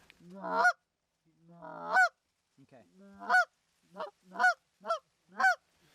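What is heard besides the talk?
Canada geese honking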